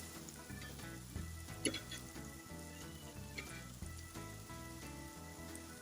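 Onions sizzling on a griddle beside Wagyu burger patties and toasting buns, a quiet, continuous frying hiss with a brief scrape of a spatula flip partway through.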